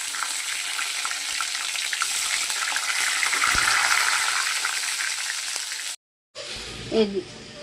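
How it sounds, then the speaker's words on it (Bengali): Steady, dense sizzling of potatoes frying in hot oil for several seconds, then a brief cut and a softer, quieter stretch of frying. "ডিমটা ভেজে তুলে নিয়ে তারপর আলুটা ভাজবো।"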